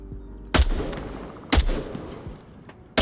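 Three sharp single gunshots from a red-dot-sighted rifle in a VR shooter game, spaced about a second apart, loud and close, each followed by a short decaying echo.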